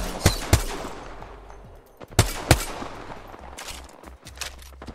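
Gunfire in the battle royale shooter Apex Legends: two pairs of sharp, close shots separated by a pause, then lighter scattered fire, over a continuous rumble of game ambience.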